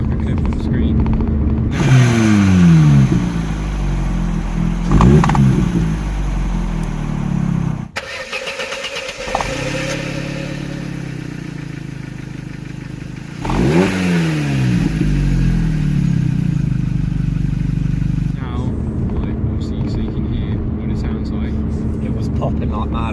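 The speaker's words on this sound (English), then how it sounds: "as you can probably hear, the exhaust is a little bit louder" A Vauxhall Corsa C SXI with an aftermarket back box barks through several loud revs from idle, each rising and falling sharply, with a brief dip between bursts and talking in the background.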